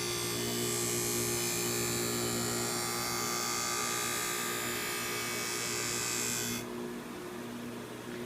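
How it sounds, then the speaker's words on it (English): A knife blade pressed lightly along a Black Stone Sports G 02 grinding stone gives a steady, whining grind with a constant motor hum, then the high hiss drops away near the end, leaving the hum. "Take a smooth, slow, lighter pressure pass across the grinding stone."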